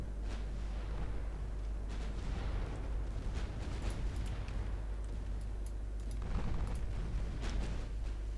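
Torpedoes explode during a naval battle in the Ultimate Admiral Dreadnoughts game, heard as a string of deep booms and bursts over a constant low rumble, with louder blasts near the start and late in the sequence.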